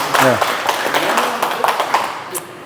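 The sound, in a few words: audience applause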